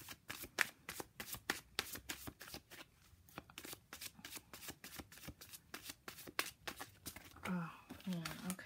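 Tarot cards are shuffled by hand in a quiet room, giving a rapid, regular run of crisp riffling snaps close to the microphone. Near the end someone speaks softly.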